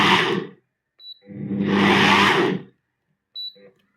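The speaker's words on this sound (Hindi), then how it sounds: "भी हल्के से ग्राइंडर फिरा के रख लेंगे। बस एक स्लाइड फिराना है ताकि सब जो है मिक्स हो जाए।" A small kitchen grinder is pulsed briefly to mix a homemade herbal powder. Short whirring bursts come close and loud, with one sustained spin in the middle and quiet gaps around it.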